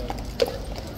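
A horse's hooves strike the ground at Horse Guards in London, one or two clear clops against faint outdoor background noise.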